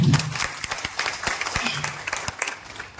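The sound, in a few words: audience applause for the company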